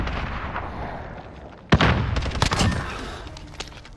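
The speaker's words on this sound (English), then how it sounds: "Frag grenade." A frag grenade blows up in Call of Duty Modern Warfare as a sudden loud blast, then a rumbling tail with further sharp cracks of gunfire, all over a continuous noisy game backdrop.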